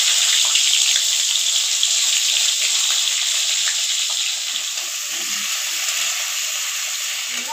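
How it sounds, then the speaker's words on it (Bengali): Cauliflower and potato pieces fry in oil left over from frying fish, a constant hissing sizzle close by that eases slightly partway through, with faint clinks underneath. "এবার মাছ ভাজা তেলের মধ্যে ফুলকপি আলুগুলো ভেজে নেবো।"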